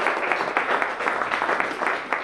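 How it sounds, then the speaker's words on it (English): An audience at an indoor gathering applauds, a dense, steady patter of many hands clapping nearby that holds at an even level for the whole stretch. "so give them another round of applause."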